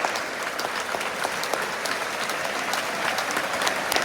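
Steady, dense applause from a large crowd in a football stadium, continuous clapping filling the whole stretch with no voices standing out.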